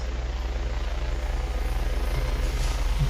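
A camera drone flies in a video game with a steady, rapid buzzing rotor throb that pulses evenly and stays close and loud for three seconds, with no speech over it.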